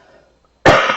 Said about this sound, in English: I really go into belly coughing fits